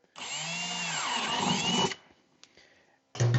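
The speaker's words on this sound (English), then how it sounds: "we can drill a hole right through the side of our dash here" A power drill whines loudly for about two seconds, its pitch shifting as it bores through the plastic dash of a Yamaha Drive 2 golf cart, then stops; a brief clatter follows and the motor restarts.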